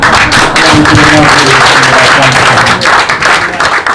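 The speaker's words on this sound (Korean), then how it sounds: "그냥 박수 치려면 제대로 한번 쳐보죠." Dense, loud applause fills a church worship service as the congregation claps hard and continuously, with a voice faintly audible underneath.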